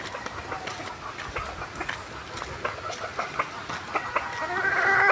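Roosters and a hen at feeding time cluck and crow at moderate distance over a continuous outdoor rumble that swells louder toward the end.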